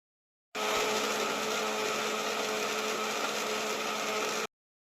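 A kitchen mixer grinder whirs loudly and steadily for about four seconds, grinding green chillies, ginger, garlic and mint into a fine paste for pulao, starting and stopping abruptly.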